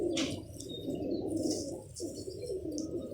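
Pigeons coo softly on a rooftop loft, a low rolling cooing repeated through the moment, with a few faint chirps and wing sounds in the background.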